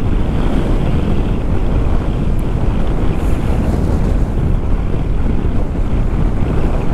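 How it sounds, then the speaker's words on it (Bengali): Strong wind roaring across a microphone during a KTM 390 Adventure motorcycle ride in Ladakh, a loud, constant, low buffeting rush with no pauses and no voices. "বিচ্ছিরি হাওয়া হচ্ছে।"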